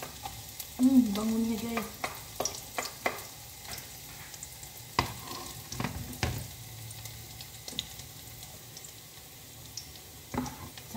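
Garlic drops into a hot pan for pasta and sizzles with a soft, steady frying crackle, broken by scattered clicks and scrapes of stirring, and a voice briefly speaks over it.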